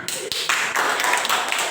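Students in an Indonesian classroom clap for a classmate coming forward to receive a reward, a brief dense patter of hands lasting under two seconds.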